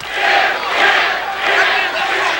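Spectators at a Jeff Mayweather vs Todd Foster boxing match roar and cheer in loud, swelling waves that fill the arena without letup.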